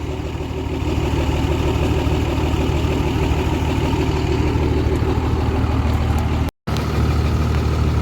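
A massive diesel pusher generator engine runs steadily at a close, loud idle, a continuous low rumbling drone that cuts out for an instant near the end.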